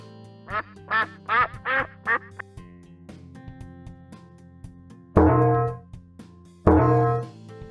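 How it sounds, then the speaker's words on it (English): A duck quacks in a toddlers' animal sound game, first a quick run of five or six short quacks, then two louder, longer drawn-out quacks after a pause. "Duck."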